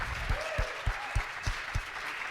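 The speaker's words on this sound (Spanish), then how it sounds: "Denle un fuerte aplauso, por favor" Audience applause following the introduction of a speaker at a talk, a steady wash of clapping with a few louder thumps recurring at regular intervals, all at an even, moderate level.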